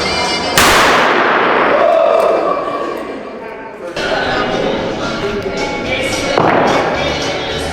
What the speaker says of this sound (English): when this hits the other ring, it sparks and it ignites the gunpowder and then it explodes